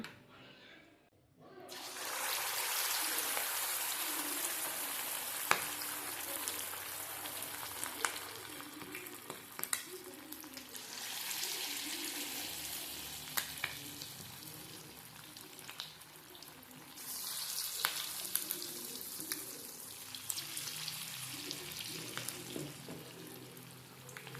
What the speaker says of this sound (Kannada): ಈಗ ಫ್ರೈ ಮಾಡೋಣ